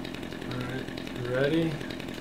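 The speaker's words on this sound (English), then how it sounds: "Nothing like a ninja with a chainsaw." A chainsaw in the video game Dead Rising 2 buzzes and revs in a short burst, its grinding whine rising under a player's talk.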